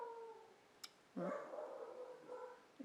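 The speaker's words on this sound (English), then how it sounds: "Time for the dogs to bark." Dogs bark and yelp at a distance, a few faint drawn-out barks, with a sharp click partway through and quiet room sound.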